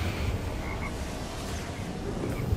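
Frogs croak in the video game Saints Row: Gat Out of Hell, low repeated croaks under a noisy, rumbling game background, with no talking.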